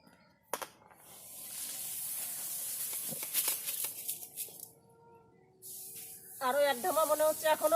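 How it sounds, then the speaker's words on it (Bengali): Unhusked rice grains (paddy) poured by the basketful into a cooking pan in a village kitchen: a sustained bright hissing rush of grains, fairly close, starting and stopping, with someone speaking near the end. "এইভাবে ধামাই করে করে ধান এনে সব আমি কড়াইয়ের মধ্যে দিয়ে দেবো"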